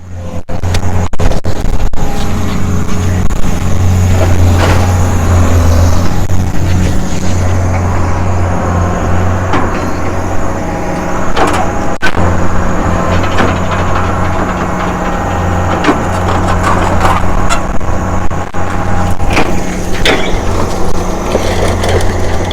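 A truck loaded with scrap metal for recycling rolls across the weighing scales at a scrapyard, its heavy engine rumbling loudly and steadily from close by, with occasional knocks and rattles.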